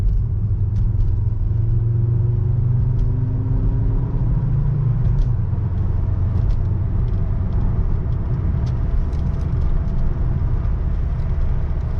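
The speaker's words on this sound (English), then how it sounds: "The transmission shifts through all the gears just fine." A car engine rumbles steadily from inside the vehicle while driving, its pitch rising and dropping as it shifts through gears, with no talking.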